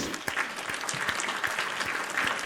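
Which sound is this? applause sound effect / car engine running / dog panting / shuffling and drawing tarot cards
applause sound effect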